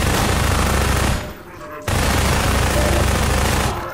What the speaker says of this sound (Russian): Да, это новая пушка, я сразу ее ощутил, ее мощь на себе.